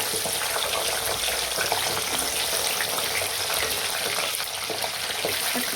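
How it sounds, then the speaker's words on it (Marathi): Eggplant fries in hot oil, a dense, loud, unbroken sizzle and crackle heard close up throughout, with no talking. "आता वांगे सोडणार आहे त्याच्यामध्ये आपल्याला तळून घेणार आहे वांगे"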